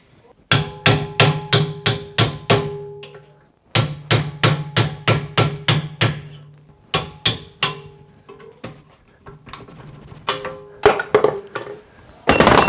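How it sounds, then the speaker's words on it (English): A hammer strikes a metal punch to tap a bushing sleeve out of a vehicle radius arm, in quick bursts of sharp ringing taps, several sets of rapid blows separated by short pauses, close and loud. "using a punch and a hammer, just tap the sleeve out."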